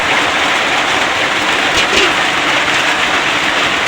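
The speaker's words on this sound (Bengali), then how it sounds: "এই যে এখনো বৃষ্টি পড়তেছে দেখেন" Steady rain falls as a dense, constant hiss with no pauses. It is loud and close, and no voices are heard.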